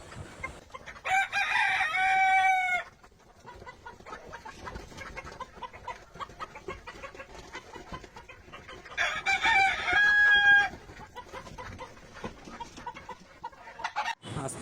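Five-month-old Egyptian Fayoumi chickens cluck nearby, broken by two long, loud crows several seconds apart against a low farmyard background.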